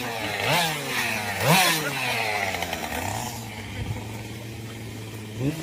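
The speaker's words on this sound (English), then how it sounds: "He's definitely a leaf blower, I believe him." A leaf blower runs at a haunted location late at night, its motor whine surging upward twice in quick revs, then settling into a steady, fairly loud drone.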